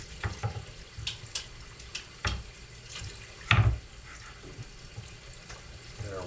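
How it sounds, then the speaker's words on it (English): Tap water running into a kitchen sink while hands are washed, an uneven splashing stream with a few louder gushes and clatters, moderately close. "I'm gonna wash my hands because they're all covered with burger, which is a little sticky."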